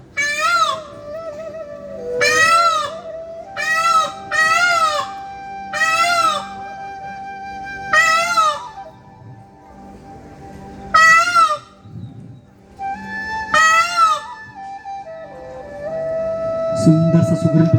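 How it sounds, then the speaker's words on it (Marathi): A peacock calls out in open countryside with a series of loud, nasal, rising cries, about nine of them in irregular bursts with short pauses, close by. A faint hum lies underneath. "सुंदरसा मोराचा आवाज."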